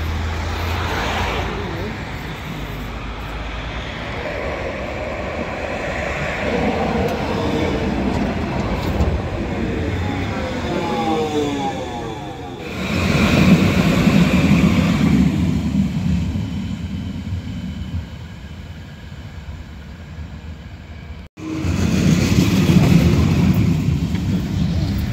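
A historic tram in Poznań rumbles past, its steady rolling and rail noise swelling and fading over a long stretch, with faint squeals and some voices nearby.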